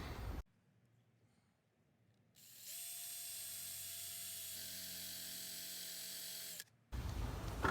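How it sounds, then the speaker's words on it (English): A power drill whirs steadily for about four seconds drilling a hole in wood after a quiet pause, then stops abruptly; close and loud, with no talking. "I'm just gonna drill the other hole and just get those together right now."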